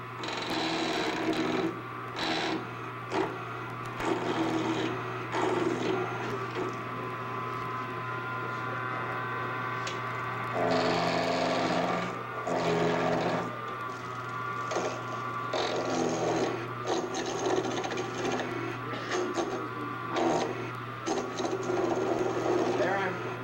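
A wood lathe turns a workpiece cut with a skew chisel, giving a steady motor hum with intermittent rough cutting bursts while someone talks over it.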